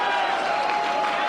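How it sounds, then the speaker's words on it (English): A rowdy, mostly LGBT voter crowd at a rally in Wilton Manors, Florida, cheering and applauding in a dense, continuous wash of noise. "The crowd in Wilton Manors was large and it was rowdy."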